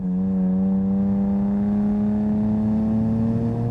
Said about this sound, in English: powered by a 550 horsepower, 3-liter twin turbocharged straight 6-cylinder engine